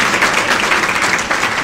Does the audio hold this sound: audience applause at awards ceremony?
yes